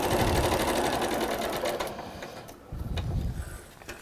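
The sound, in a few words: sewing machine stitching a seam line on fabric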